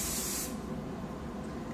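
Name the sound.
Chi hairspray being sprayed on hair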